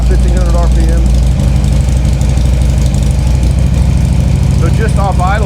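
Harley-Davidson 2008 Street Glide V-twin engine running just off idle around 1300–1500 RPM with a ThunderMax installed, a steady lumpy rumble throughout, close up, with a voice talking over it.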